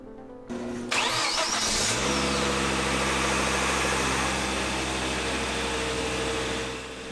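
A Volvo XC90 engine cranks briefly after an oil change, catches and starts, then settles into a steady, close idle that hums on for several seconds.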